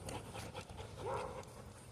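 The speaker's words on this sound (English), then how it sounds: "working around crazies like that dog on the other side of the fence" A dog pants on the far side of a fence with quick, faint, rhythmic breaths over low background noise, and a short whimper-like tone rises briefly in the middle.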